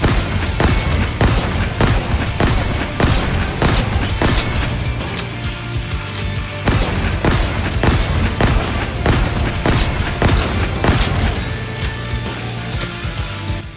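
The Mangler hand cannon in Halo Infinite fires heavy, booming shots in a steady rhythm of roughly two per second, each report loud and punchy and repeating without pause for about fourteen seconds.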